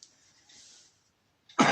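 A man coughs into the crook of his elbow: after a quiet stretch with faint hiss, one sharp, close, muffled cough lands at the very end.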